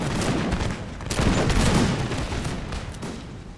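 Musket volleys crackle from massed lines of troops in an American Revolution battle game, dense overlapping shots rolling continuously, loud and close, with no voices.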